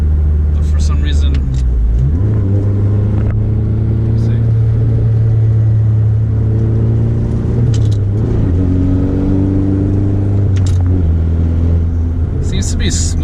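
A Honda Civic FK7 sport hatchback with aftermarket Hasport engine mounts drives along, its engine droning steadily from inside the cabin, rising as it revs, then dropping and settling as gears change, while someone talks over it.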